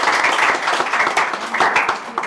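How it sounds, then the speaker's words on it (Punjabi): A small group claps in a classroom at an IELTS and PTE coaching institute, giving brisk, close applause with distinct individual hand strikes that rises, dips and picks up again. "ਤਾੜੀ ਲਾ ਦਿਓ ਯਾਰ।"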